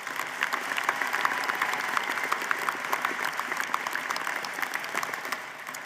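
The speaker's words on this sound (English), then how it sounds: "Let's give them another round of applause." Applause from the audience at a university commencement ceremony, a broad, even patter of many hands clapping in a large space, moderately faint and steady throughout.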